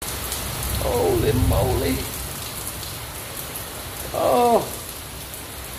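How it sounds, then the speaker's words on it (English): Heavy monsoon rain pours steadily with a dense, even hiss throughout while a man exclaims twice over it. "Well, I know you hear the rain."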